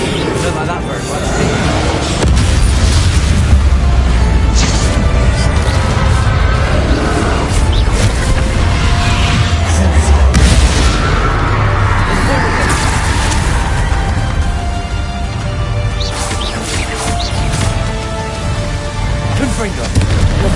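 Fiery Confringo spell explosions cast in combat in Hogwarts Legacy, a steady run of loud crackling bursts and blasts over dense game noise lasting the whole stretch.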